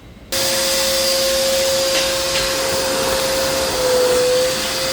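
A shop vacuum sucks a rodent nest out of a car with chewed wiring; after a brief quiet moment it starts abruptly and holds a loud, steady whine for about five seconds.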